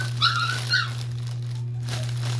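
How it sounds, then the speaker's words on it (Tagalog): Two short, high yelps from a small dog, fairly faint, over a steady low electrical hum. "Ang ingay ng aso namin, no?"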